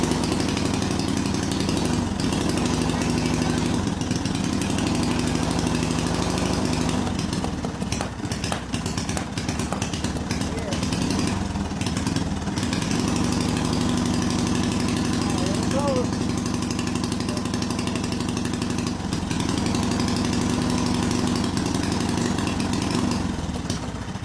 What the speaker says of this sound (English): The engine first started and then it was running kind of funny.